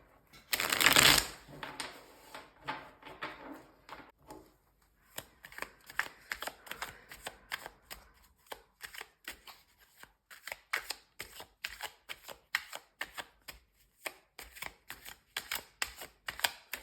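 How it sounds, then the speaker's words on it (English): A deck of cards shuffled for a psychic reading: a loud riffle at the start, then a quick series of crisp card snaps and flicks, close by and with no one talking. "one more shuffle"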